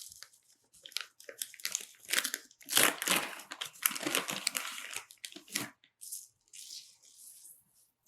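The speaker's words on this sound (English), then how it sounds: "I'm going to put it on a piece of parchment paper on a peel." Parchment paper crinkles and crunches as a large, roughly shaped loaf of no-knead Italian bread dough is set onto it on a peel, in a series of close, loud rustling bursts with quieter handling noise between them and no talking.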